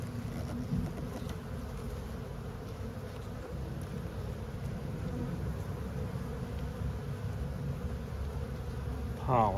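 Honey bees buzz steadily inside a hive during a spring brood inspection, the upper super packed with honey; a dense, continuous close-up drone holds for the whole stretch with no talking.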